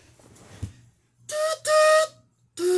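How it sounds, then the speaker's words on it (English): A double-ended steam tank engine model with two sets of whistles sounds three short toots, the last at a lower pitch, after a faint quiet stretch. "it has 2 sets of whistles and whistle pitches and tones"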